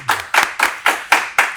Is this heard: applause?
yes